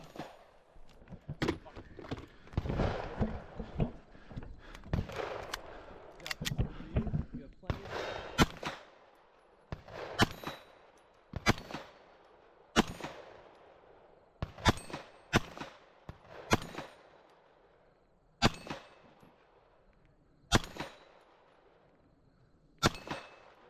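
Rapid gunshots from a Beretta pistol-caliber carbine at a CQBEast 2024 bullpup PCC competition, hitting steel targets: sharp, loud reports in irregular bursts and single shots with metallic rings, while voices talk in the background.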